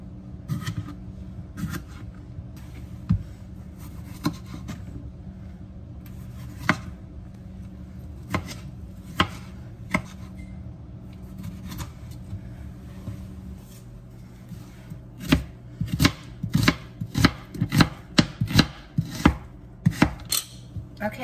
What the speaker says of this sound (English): we're gonna start by slicing up my cucumber